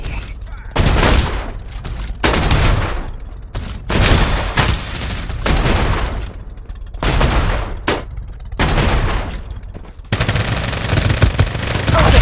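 Rapid automatic gunfire in the shooter game Farlight 84, loud, close bursts of several seconds each separated by brief pauses, the last burst running to the end.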